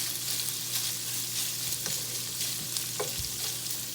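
Bratwurst pieces fry in a stir fry pan, nearly cooked through, giving a steady close sizzle with a few soft stirring clicks and scrapes throughout, no voices.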